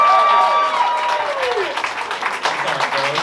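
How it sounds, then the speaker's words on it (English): A comedy club audience at a roast battle breaks into applause, a dense wash of clapping that swells and continues steadily under a host's loud voice. "If you think Ray Cosker took this battle home, clap your hands"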